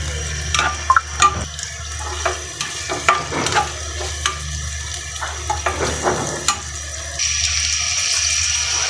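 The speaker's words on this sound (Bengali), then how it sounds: "হালকা একটু ভেজে নিয়ে পরে পাতাকপিটা দিয়ে দেব" Oil sizzling in a pan before shredded cabbage goes in, a steady frying hiss broken by scattered clicks and stirring scrapes, close by with no talk.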